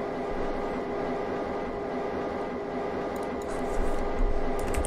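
A getaway train runs in a video game, making a steady, loud mechanical rumble with a sustained droning hum. Faint higher clatters and rattles break through near the end, and no one speaks.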